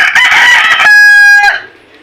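A native rooster crows loudly and close by on an organic farm, giving one long cock-a-doodle-doo that rises into a sustained clear note and then fades, with no voices over it.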